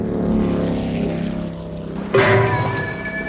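A motorboat engine drones steadily at close range, the tone rising into a louder, harder whine about two thirds of the way through as the throttle opens.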